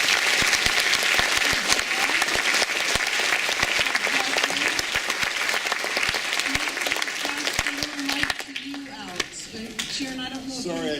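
An audience applauds for Allison after her autism presentation at Shepaug Valley School, with steady, dense clapping throughout and a few voices talking near the end.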